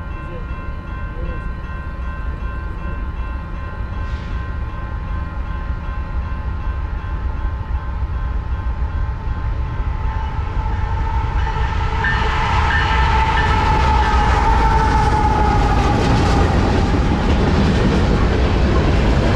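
A Norfolk Southern eastbound mixed freight train, with locomotive NS 8099 trailing dead in tow, rumbles past nearby in a steady, loud roar with rising wheel and rail noise and screeching.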